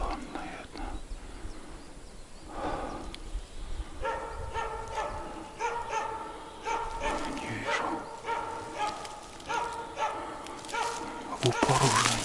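A hunting dog barks repeatedly in a forest, probably at a moose or bear, with sharp barks coming in quick bursts at moderate distance while someone speaks briefly nearby.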